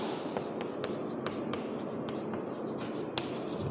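Chalk or marker writing on a board during a class 12 biology lesson on nitrogen fixation, with faint, quick scratchy strokes and taps over a steady room hiss.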